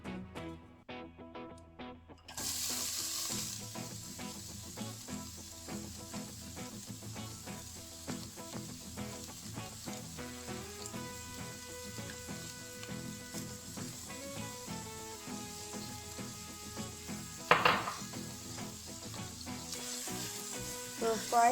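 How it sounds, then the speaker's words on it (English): Steady, bright sizzling of tempering spices in hot oil, close up and continuous, with a brief sharper hiss flaring partway through. "Once the tempering here becomes fragrant and you can hear a slight sizzling"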